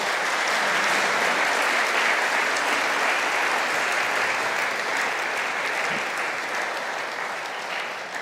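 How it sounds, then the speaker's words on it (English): Steady applause from an audience fills the room, a dense wash of clapping that holds evenly for several seconds and fades slightly toward the end, with no voices over it. "give them another round of applause for being here today"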